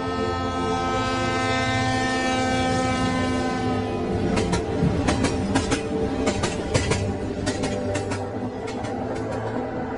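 A train rumbles along with a sustained horn-like tone, then rhythmic clacking of wheels over rail joints grows more prominent.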